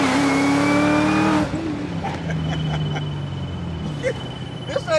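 An LT4-swapped 1975 Chevrolet Caprice Classic with a 10-speed transmission revs hard with rising engine tones, then the roar drops away as the car pulls off, leaving a rumbling street backdrop with faint voices.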